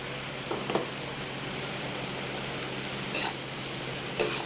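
Cauliflower is added to a hot pan in a home kitchen, giving a steady low frying sizzle throughout with a few brief clinks of stirring or utensil sounds.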